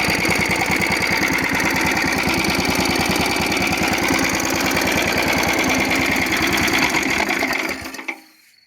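A gasifier-powered hybrid walk-behind tractor engine runs steadily and loudly up close with a fast, even chugging, then shuts off and falls silent in the last second.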